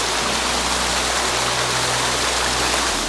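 A waterfall at Maco, Davao de Oro, rushes in a dense, steady roar of falling water, loud and close, with no voices over it.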